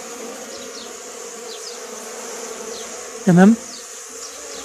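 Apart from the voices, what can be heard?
honeybees buzzing at a hive during varroa treatment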